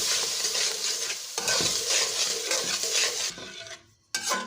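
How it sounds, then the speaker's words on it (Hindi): Egg, milk and sugar mixture stirred into semolina for egg halwa, a loud wet sizzling and scraping in a pan that continues steadily, then cuts out near the end before resuming briefly. "जिन अंडों में हमने दूध और चीनी मिक्स किया था उसको हम सूजी में डाल देंगे और अच्छी तरह से सूजी में मिक्स कर देंगे"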